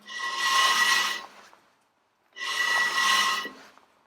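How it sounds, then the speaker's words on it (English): Brake shoes on a Ferguson TED20 tractor rub against the drum in two slow, steady scraping passes separated by a quiet pause, close up and dry-sounding. "So we can hear that the brake shoes are"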